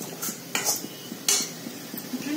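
A spoon scrapes and stirs vegetables in a thin steel or iron kadai over a high gas flame. A few sharp metallic strokes stand out over a faint background sizzle, close up with no talking.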